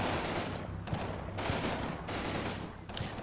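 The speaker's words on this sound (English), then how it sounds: "Get an artillery barrage on this town so that I'll just generally soften up their defenses before I arrive." A video game artillery barrage pounds a town: repeated bursts of rapid gunfire-like blasts in several waves, fairly dense and continuous, with no talking.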